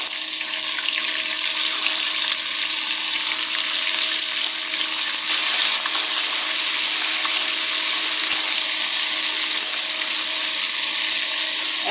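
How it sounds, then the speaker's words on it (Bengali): Tilapia fish fry in a pan of oil, and a loud, even, hissing sizzle holds unbroken for the whole stretch without any talk. "এক এক করে আমি এইভাবে সবগুলা মাছ ভেজে নেব।"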